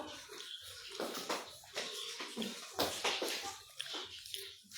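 Water spilling and overflowing from a container in a home kitchen, a rough, splashy rush that keeps going steadily for several seconds, heard up close with noisy bursts and no talk over it.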